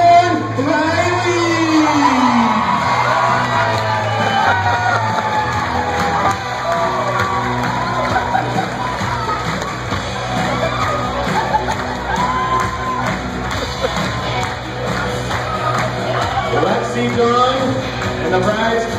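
Wedding reception guests greeting the bridal party's entrance, a loud crowd whooping, shouting and cheering continuously over music, with an announcer's voice mixed in.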